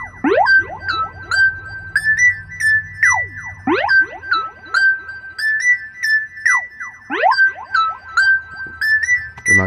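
Synth melody from a beat built in FL Studio, with bright, siren-like pitch sweeps and held tones that repeat in a looping pattern. A steady low bass sits under it and the level is loud and continuous throughout.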